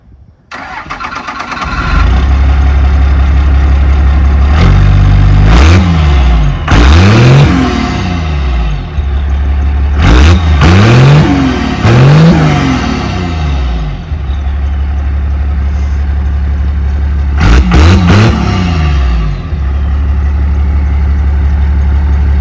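A large diesel truck engine cranks and starts, then idles loudly with several sharp revs rising and falling, heard close by from the exhaust side, alone.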